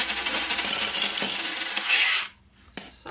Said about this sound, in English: Sorry guys for that loud noise from the coin.